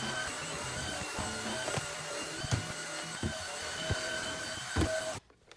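A Shark Rocket stick vacuum drones steadily and loudly while cleaning carpeted stairs, with repeated knocks and bumps as it is pushed over the steps, then cuts off abruptly near the end.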